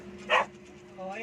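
An aspin dog gives a single short, sharp bark or yip up close, amid faint background voices.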